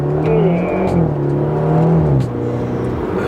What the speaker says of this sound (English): Those burbles, dude, I'm not used to that in your car